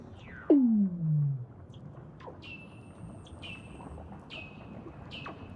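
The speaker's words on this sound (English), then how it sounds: "They're actually the calls of Weddell seals." Weddell seals call underwater beneath Antarctic ice, a loud descending whistle-like sweep followed by a series of eerie high pings and trills, spacious and echoing, with no voices.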